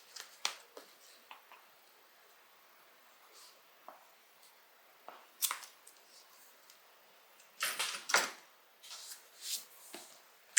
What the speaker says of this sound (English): you can go ahead and clip the sides off so it's even with the pocket